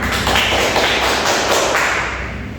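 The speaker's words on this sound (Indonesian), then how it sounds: "Tepuk tangan." A classroom of primary school children claps their hands together in a dense, continuous burst of applause, loud and close, fading slightly at the end.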